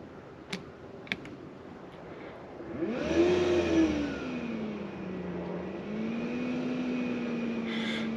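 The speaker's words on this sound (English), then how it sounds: "And the motor is running." A diesel heater fan motor starts up after two sharp clicks, whirring up with a rising pitch and then settling into a steady, close hum that runs on alone.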